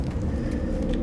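A car passes outside an open window, a low, steady engine and road rumble close by with no break, heard without any talk over it.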